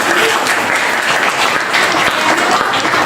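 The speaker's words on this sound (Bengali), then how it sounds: "একটা হাততালি হবে।" An audience at a cultural programme honouring Rabindranath Tagore and Kazi Nazrul Islam bursts into dense, loud, sustained applause.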